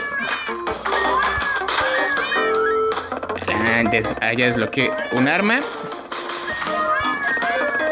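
Cartoon cat meows from flying projectile cats in the video game Crashy Cats, several bright meows popping over game music while someone talks excitedly throughout.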